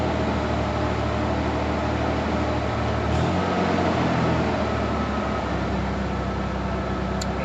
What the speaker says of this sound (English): It's just the idle is pretty rough still.